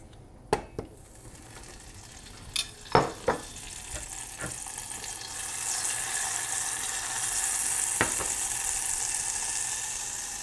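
Butter sizzles in a frying pan with a steady, building hiss, broken by a few sharp clicks and knocks of utensils.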